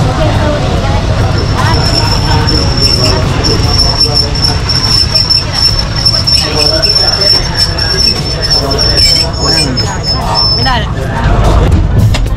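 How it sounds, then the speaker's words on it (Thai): Thai diesel train number 112 pulls into a rural station, and its wheels squeal with a long, high metallic whine over a heavy rumble that stays loud and close throughout. "รถไฟก็เตรียมเข้าสถานีแล้วนะครับ"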